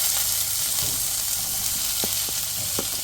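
Sliced onion drops into hot oil that already holds ginger-garlic paste, setting off a loud, continuous sizzle, with a few light clicks of a spoon over the frying.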